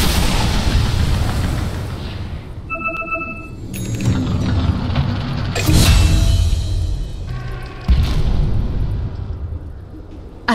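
Dota 2 match in which the middle tower comes under attack: dense, loud battle noise with booming impacts, bursts and crackling effects layered over a continuous din, with sharp hits near the middle and a heavy thump toward the end.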